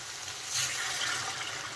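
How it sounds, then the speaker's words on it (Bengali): Hot water poured into a pan of well-fried fish curry masala, with oil already released, for a rohu belly-piece curry: a steady watery rush and sizzle, fairly close, with a brief louder surge near the middle. "এখন আমি দিয়ে দেব জল।"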